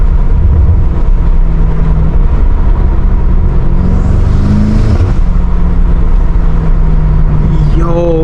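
A catless BMW M5 Competition F90 with downpipes drones loudly at low RPM from inside the cabin, a steady deep exhaust rumble throughout with a rising rasp near the end, under a voice.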